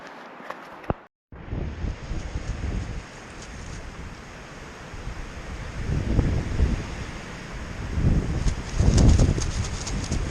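Strong wind gusting and buffeting the microphone outdoors during a search through brush for a missing hiker, a roaring, surging rush that swells louder toward the end, with no talk.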